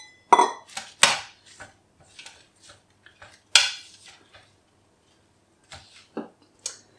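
Cavolo nero is tossed into a butternut squash and freekeh salad, heard as scattered clinks and scrapes of utensils against a dish, with loud knocks at first and quiet pauses between, close and without speech.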